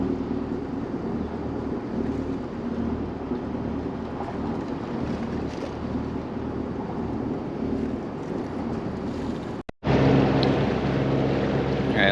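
Steady droning sailboat engine running under way, a continuous close rumble with wind noise over the microphone and no talk.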